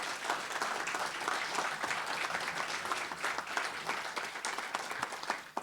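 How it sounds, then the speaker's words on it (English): A crowd at a Tahoe evacuation town hall applauds first responders with a dense, steady roar of clapping that lasts throughout and stays fairly even in loudness. "can we get a round of applause for all of those?"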